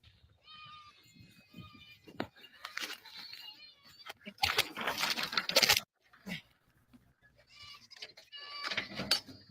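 Goats bleat in a clip played back during a casual live chat stream, with repeated nasal cries and several loud noisy bursts in the middle, some quieter bleats toward the end.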